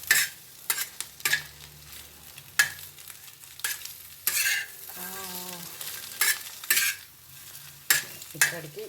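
Scrambled egg cooking in garlic butter in a pan, with frequent sharp scrapes and clacks of a utensil stirring and pushing the egg, over a quiet sizzle, close up, with no one talking.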